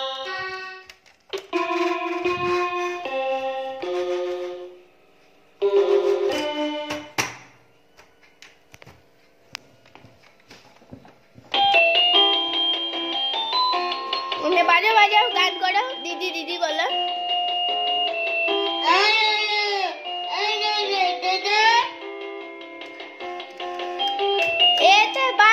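A child presses the buttons of a toy piano, which plays bright electronic tones in short bursts and then a longer melody, with adults speaking between the notes.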